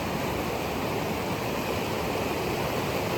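River water rushes hard and loud at a jungle beach in Keonjhar, a continuous dense roar that stays steady throughout with no gaps or voices.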